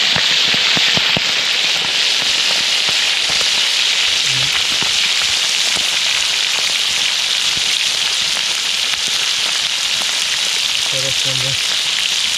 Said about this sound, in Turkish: sonra aynı yağda bu menüyü kızartıyorum